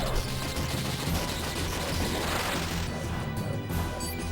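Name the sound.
Electro Bolt spell attack in video game Chrono Cross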